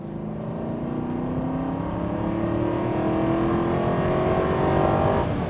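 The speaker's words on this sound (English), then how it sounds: "take one out for a drive, stick it in third gear, squeeze the accelerator" Aston Martin V8 Vantage accelerating hard in third gear, the engine note climbing smoothly and steadily in pitch as revs build, loud and close with no speech over it.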